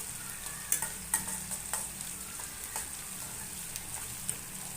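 Chana dal roasting in a pan on a low flame, a soft, fairly faint sizzle broken by several sharp clicks and scrapes as it is stirred, steady throughout.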